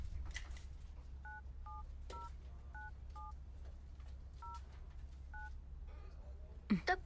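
Telephone keypad dialing tones, a sequence of short dual-tone beeps in an irregular rhythm over low steady background hum, followed by a brief louder burst near the end.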